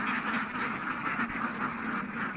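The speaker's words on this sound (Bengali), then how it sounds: "আর অনেক হাঁস রয়েছে নদীর মধ্যে।" Ducks on a farm river quack steadily in a dense overlapping chorus throughout, a continuous flock sound with no pauses and no talk.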